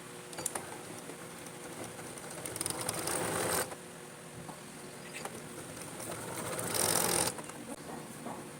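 Sewing machine stitching elastic onto a namaz chadar, a quick mechanical whirring patter in several runs that swell louder and then pause, near and with no talk.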